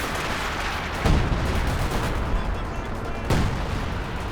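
Katyusha rocket artillery fires amid a dense Company of Heroes 2 battle, two heavy booming salvos rising out of constant loud gunfire and explosions.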